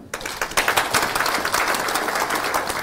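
An audience at a Korean political book concert applauds to welcome a guest, dense sustained clapping from a crowd that swells quickly and carries on evenly, with no voices over it.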